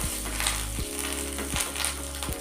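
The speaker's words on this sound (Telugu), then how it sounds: "కరివేపాకు కూడా వేసుకొని మనం తాలింపులో కలిపేసుకున్నాము" Curry leaves crackle and sizzle in hot oil during the tempering for a chutney, a steady close frying hiss with a few stirring scrapes and no voices.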